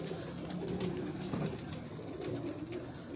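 Teddy pigeons coo softly on a rooftop loft, low repeated murmuring calls under steady outdoor background noise, with no talk.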